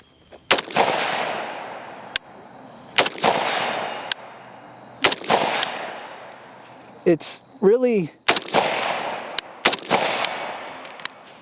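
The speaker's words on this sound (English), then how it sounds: "we're gonna just take a couple shots unsuppressed and then throw on our suppressor." A SIG 550-style rifle fired unsuppressed outdoors: about eight sharp, loud cracks, each with a decaying echo, spaced a second or two apart. A voice speaks between the shots.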